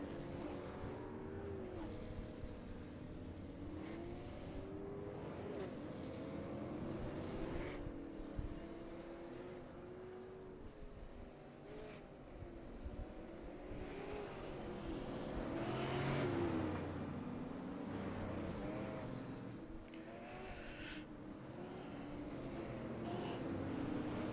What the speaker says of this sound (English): the cars will be coming around for their pace lap as of right now with 1 to green